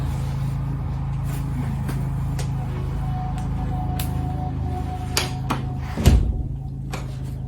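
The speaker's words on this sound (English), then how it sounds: "I'm gonna get up and close the door." A door is shut in a room during a home yoga session, giving a single louder thud among a few lighter knocks and clicks over a steady low hum.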